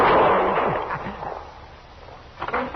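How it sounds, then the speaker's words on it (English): A single sharp rifle shot from a long-barreled rifle in an old radio western cracks loudly at the start, then fades into a short rumbling echo, with a few faint rustles afterward. "That was a rifle shot, Doc, a long-barreled human rifle."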